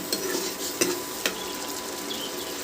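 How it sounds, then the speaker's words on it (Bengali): Green peas stir-fried in a spice mixture for Bengali aloo matar make a dense, even sizzle, punctuated by three distinct spoon knocks against the pan. "সেটাও মশলার মধ্যে দিয়ে দিলাম মশলার সাথে মটরশুঁটিটাকে ভালো করে"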